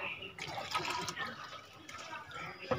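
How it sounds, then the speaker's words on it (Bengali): Water mixed with about a spoonful of fungicide is poured onto potting soil in a rooftop planter for a sapodilla tree, giving a soft, uneven trickling and splashing at close range. "নিয়ে মাটিতে জলটা দিয়ে দেব"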